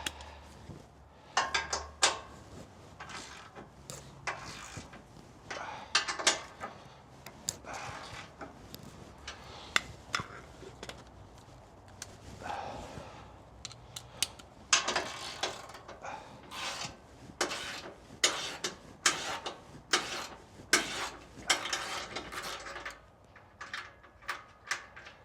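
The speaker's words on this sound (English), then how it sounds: "Here's the ratchet of death." Ratchet wrench clicking repeatedly while turning 15 mm bolts on a Ford Ranger Raptor transfer case skid plate, rapid bursts of ratcheting ticks in uneven runs, close and fairly loud, with no talking.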